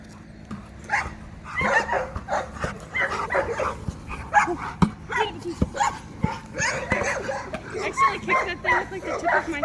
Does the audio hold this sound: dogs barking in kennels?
yes